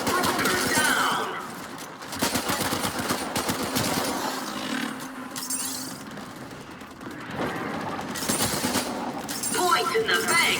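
Gunfire in Warframe during the Glast Gambit quest, a sustained, dense barrage of overlapping shots and impacts that rolls on for about ten seconds with little pause.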